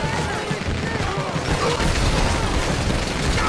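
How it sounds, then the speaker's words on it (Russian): Explosions and gunfire during a police patrol shootout at a store in GTA 5, a dense, continuous barrage of booms and bursts, loud and close, with no pause across the stretch. "Там какие-то уже взрывы есть."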